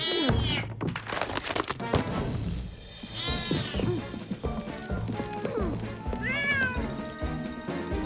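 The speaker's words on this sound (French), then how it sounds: "Mais où est-il passé, ce chat?" A cartoon cat meows repeatedly in a Fireman Sam animated episode, its cries mixed with thumps and crashing bangs and lively background music, while characters talk over the commotion.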